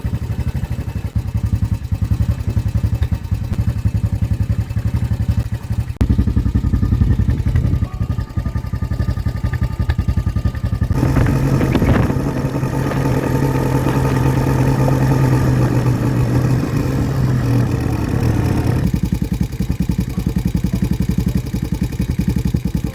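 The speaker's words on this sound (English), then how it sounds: "I'm going to hop on the ATV and put everything on the back so it makes it a little bit quicker." An ATV engine runs steadily while crossing a horse farm, a loud close mid-pitched drone with rattling clatter and a shift in tone partway through, no voices.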